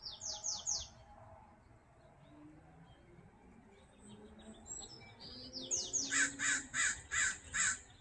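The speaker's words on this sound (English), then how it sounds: "an American crow and a Bewick's wren." An American crow caws in short repeated bursts near the start and again in a louder rhythmic series toward the end, with a Bewick's wren singing faintly in between, outdoors on a clear, calm day.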